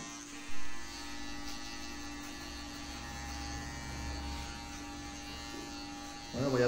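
A close electric hair clipper hums steadily at a salon while cutting a short haircut, a constant low buzz throughout, with a brief bump at the start and a faint sound near the end.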